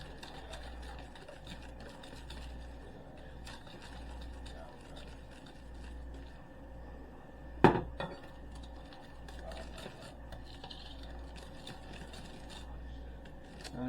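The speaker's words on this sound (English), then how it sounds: "Now, I'm going to slowly add our flour as we mix." An electric mixer hums steadily in a low, continuous drone as flour goes into lemon streusel muffin batter, with faint bowl scraping and one sharp clank partway through.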